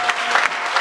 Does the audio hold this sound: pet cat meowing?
no